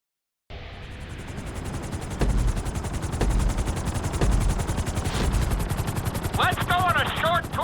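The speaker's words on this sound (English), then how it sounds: "we're gonna put you in a helicopter for this lesson" Helicopter rotor chopping steadily in Grand Theft Auto V during a flight school lesson, a close, rapid rhythmic thud with a few heavier bangs and a short electronic chirping toward the end.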